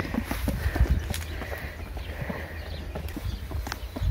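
A horse stands over a mango thrown on the ground and eats it, with soft hoof shuffles, thuds and munching close by in an outdoor setting, plus faint background birdsong.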